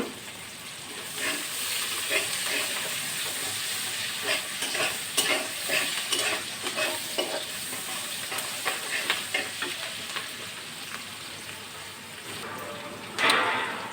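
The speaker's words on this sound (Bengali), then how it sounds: "এই যে দেখেন আমার পেঁয়াজটা ভাজা হয়ে গেছে" Onions fry in a pan with a continuous soft sizzle while a spoon stirs and scrapes through them in repeated clicking strokes, close and fairly quiet.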